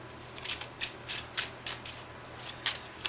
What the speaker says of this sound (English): I'm gonna go ahead and give it a shuffle.